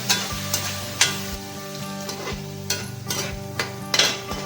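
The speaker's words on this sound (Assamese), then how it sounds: "আমি এতিয়া ভালকৈ ফ্ৰাই কৰিম।" Spiced fish curry masala frying in a pan with a little water added, a continuous sizzle broken by repeated scraping stirs and light utensil knocks, close and loud.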